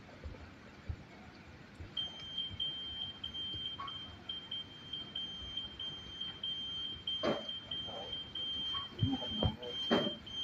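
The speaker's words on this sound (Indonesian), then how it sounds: "Ya, buzzer alarm dan lampu LED telah menyala" The buzzer alarm of a prototype IoT fireworks firing system sounds a continuous high-pitched electronic tone for about eight seconds, with scattered clicks and handling noises around it.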